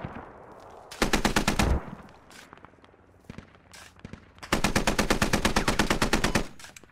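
Machine gun fire in the Squad military shooter game: two sustained automatic bursts, a short one near the start and a longer one later, with rapid evenly spaced loud shots and quieter battlefield noise between.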